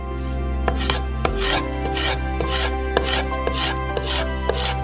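A knife slices peeled bell peppers into small strips on a board, a series of sharp, fairly close cutting taps over a steady background hum, with no talking.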